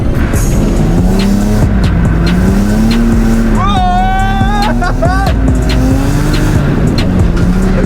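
A car drifting on a track, its engine revving hard and rising and falling while the tires squeal in sharp bursts. The sound is loud and close, and people talk over it.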